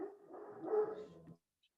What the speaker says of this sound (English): I could hear your doggy.